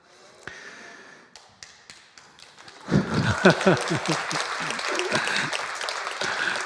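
Church congregation breaking into applause during a sermon: a few scattered taps and claps at first, then a fuller burst of clapping mixed with voices and movement that continues to the end.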